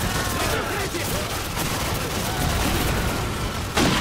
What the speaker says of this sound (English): Oh no, they're shooting at us.